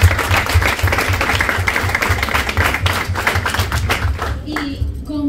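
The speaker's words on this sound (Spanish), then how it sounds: "Un fuerte aplauso, por favor." An audience claps steadily and loudly in warm applause at an event announcing a singer as co-owner of a Puerto Rican sports team. The applause fades slightly near the end.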